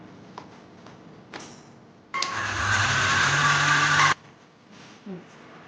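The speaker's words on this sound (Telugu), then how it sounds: "సార్ మిక్సీ పట్టుకుంటాను" Mixer grinder blending bitter gourd karam with salt and chilli, a loud steady whirring motor burst of about two seconds starting abruptly and cutting off sharply, framed by quiet kitchen clatter.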